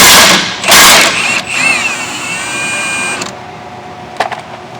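A power tool loosens a 14 mm rear shock absorber bolt on a 2011 Honda Insight in loud close bursts, starting with rough rattling impacts and then a whining motor spin that slows and stops, followed by a few faint clicks.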